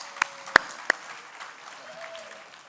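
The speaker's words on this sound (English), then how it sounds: "Let's give them all an incredible round of applause, y'all" A few scattered, sharp hand claps ring out from the audience at a school business pitch night honoring mentors, three distinct claps over a quiet room hum, not a full ovation.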